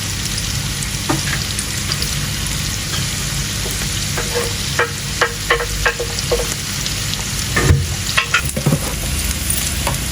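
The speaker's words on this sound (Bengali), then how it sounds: "পেঁয়াজ কষানি গেছে ভাজা ভাজা হয়ে গেছে" Onions fry in a pan during preparation of beef with bitter gourd, a loud close sizzle under repeated spatula scrapes and knocks, busier clatter toward the end, no speech.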